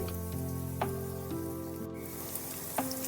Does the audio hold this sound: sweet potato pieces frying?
yes